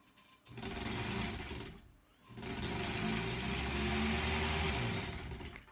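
A sewing machine stitches quilt block pieces together in two steady runs separated by a short pause, its motor hum close and even, with no talking.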